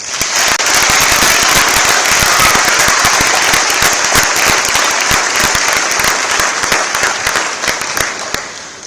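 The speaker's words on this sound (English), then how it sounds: "Please give them a round of applause." A crowd in a school gym at a high school volleyball event bursts into loud, sustained applause with sharp individual claps crackling throughout, holding steady for nearly nine seconds with no talking.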